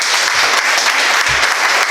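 Loud, continuous applause from an audience at a ceremony where certificates are presented to craft centres, a dense steady clapping that fills the whole moment.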